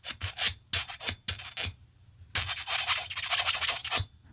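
The cap of an Ensso Italia pen grinds onto its coarse threads in a series of close, rasping scrapes. Short scratchy bursts come first, then a longer continuous gritty rub in a quiet room.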